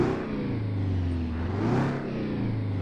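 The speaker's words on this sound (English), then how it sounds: "there's that two-stroke sound we all know and love" Truck engine in American Truck Simulator revving under throttle, a steady low drone that swells in pitch around the middle before settling back, heard close and alone.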